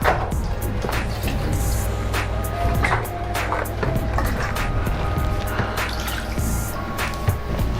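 Water poured into a pot on a stove while making candied grape syrup with sugar and corn syrup, heard as a close, continuous splashing and dripping stream with small liquid knocks throughout.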